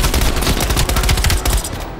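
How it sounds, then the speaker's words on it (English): Rapid automatic gunfire from a Call of Duty Black Ops Cold War campaign battle: loud, close, continuous bursts of rounds crackling in a dense fusillade for about two seconds. "Y'all shooting your own buddy."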